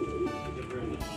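A racing pigeon gives a short, soft coo close by, a brief low warbling call.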